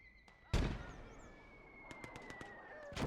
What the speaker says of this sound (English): That was a really good nade.